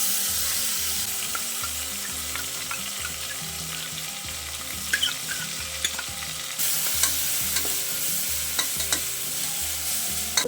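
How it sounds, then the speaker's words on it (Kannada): Ginger garlic paste frying with onions in oil for egg biryani: a steady close sizzle runs throughout, with a faint rhythmic metallic scraping and stirring mixed in and no talk. "ಈಗ ಶುಂಠಿ ಬೆಳ್ಳುಳ್ಳಿ ಪೇಸ್ಟ್ ಎರಡು ಸ್ಪೂನ್ ಹಾಕೋತೀನಿ"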